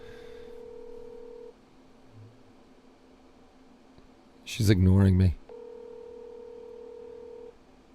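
A phone call rings out: a steady ringback tone sounds in long pulses with pauses, and a short spoken remark comes over the line in the middle.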